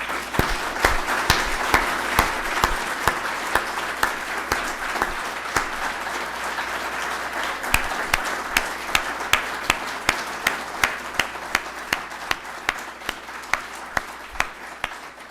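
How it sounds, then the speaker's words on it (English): An audience gives a round of applause at a research prize and medal award ceremony, steady sustained clapping from a seated crowd with sharp individual claps standing out near the microphone, continuing evenly for about fifteen seconds. "ask everyone one more time for a round of applause."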